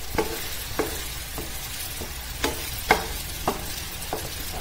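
Mango halwa with cashews is stirred in a pan, with a spoon scraping the thick mass in repeated, unevenly spaced strokes over a soft background sizzle, close and without talk.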